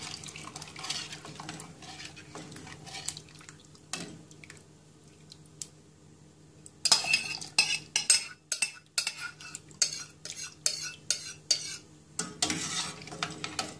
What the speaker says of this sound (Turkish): Şöyle iyice karıştırıyorum. karıştırarak çorbama ekliyorum.